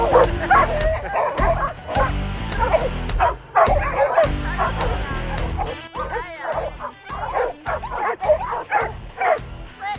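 A Malamute dog barks, yips and whimpers excitedly at close range in rapid, irregular bursts, with a person's voice mixed in at times.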